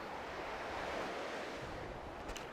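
Gentle waves wash at the water's edge on a sunny beach, a soft continuous surf hiss with light wind, faint and alone.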